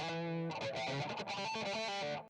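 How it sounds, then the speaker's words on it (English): A guitar lead line recorded on a Zoom R8 rings out with heavy delay and echo, sustained distorted notes repeating and smearing into each other for a couple of seconds before cutting off. "it's kind of like a lead-ish thing with a bunch of delay and echo and stuff"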